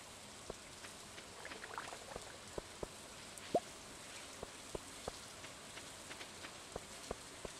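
Steady light rainfall in the video game Stardew Valley, with scattered drips and taps, a continuous soft patter throughout.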